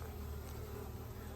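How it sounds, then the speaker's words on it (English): Honeybees buzzing around fall beehives during syrup feeding, a dense steady droning hum, fairly faint and continuous, no speech. "Not as many bees."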